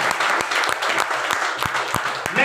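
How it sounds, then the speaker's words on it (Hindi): An audience at an AWPL health product seminar breaking into applause, a dense, steady roar of many hands clapping together at moderate loudness, with occasional sharper claps. "जोरदार तालियां होनी चाहिए।"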